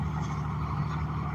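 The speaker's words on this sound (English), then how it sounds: "The truck's running great" A truck engine runs steadily, a brief, even low rumble heard close with no voices.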